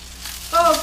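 An egg is dropped into a hot pan for a ramen topping, and a sudden bright sizzle bursts up halfway through and holds steady close by.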